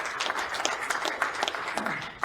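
Applause from the audience at a wrestling hall of fame induction ceremony, a steady wash of many hands clapping with sharper individual claps throughout.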